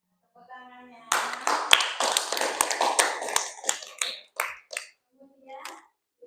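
Audience clapping at an Indonesian religious talk, a dense burst of many hands lasting about three seconds, then thinning into scattered separate claps. Low hum and faint voice tones sit around the edges.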